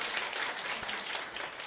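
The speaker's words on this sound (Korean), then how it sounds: "큰 박수 부탁드리겠습니다" Audience applause at a Monday company assembly: a short burst of even, crowded clapping at moderate loudness, with no talking.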